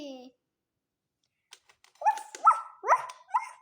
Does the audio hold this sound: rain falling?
no